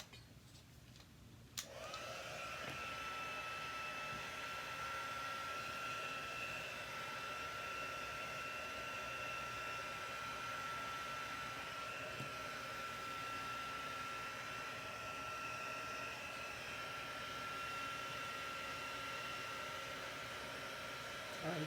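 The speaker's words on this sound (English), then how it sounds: "Now I'm just going to get out my heat tool" Heat tool blowing hot air for embossing on a handmade card, switched on with a click after a moment and then running as a steady, faint, even whir to the end, no talk over it.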